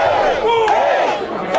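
Wrestling crowd roaring and chanting at a live independent show, a loud, dense wall of voices rising and falling without pause, nearby and filling the whole moment.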